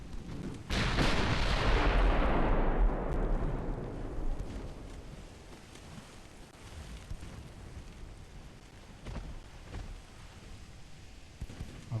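A warship's main and secondary guns fire together in the naval game Ultimate Admiral: Dreadnoughts, opening with a massive booming salvo that rumbles and fades over several seconds, followed by scattered softer distant thuds.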